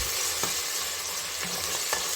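Ginger garlic paste frying with onions in hot oil, a dense steady sizzle with a few soft spoon knocks, close and continuous, no voices.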